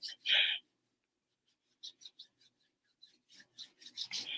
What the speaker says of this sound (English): I'm rubbing the glue off.